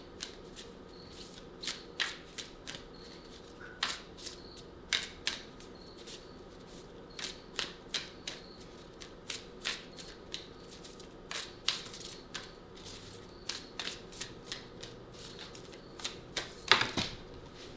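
Large tarot cards are handled and shuffled, giving repeated crisp riffles and flicking card snaps in irregular bursts throughout, close by, with a louder shuffle near the end.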